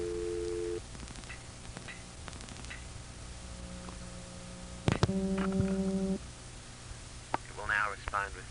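On a coin phone served by a common-control step-by-step exchange in the 703-494 area, a local dial pulse test line gives faint hum, a short tone, then clicking and buzzing tones, with some talk.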